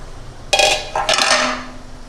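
A cooking pot lid is lifted off a simmering oil-based eggplant curry, giving two quick metallic clatters close by, a sharp clank followed moments later by a second rattle, then a faint steady hiss.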